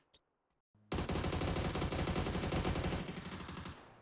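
An MG3 machine gun in PUBG opens up after a brief near-silent lead-in, pouring out loud, dense, sustained automatic fire for about three seconds before easing slightly at the end.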